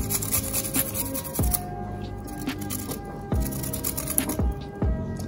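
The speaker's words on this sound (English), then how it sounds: "I'm going to grate some garlic or shred" Garlic cloves rubbed against a grater, a continuous scraping rasp with strokes renewing every second or two, close and moderately loud over a humming kitchen background.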